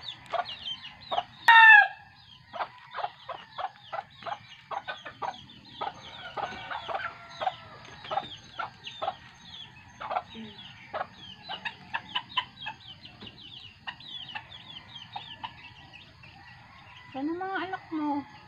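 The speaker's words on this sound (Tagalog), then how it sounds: "Yung isang inahin doon." A hen clucks in short, repeated bursts in a farmyard, with a rooster crowing and other fowl calling nearby, while someone talks intermittently.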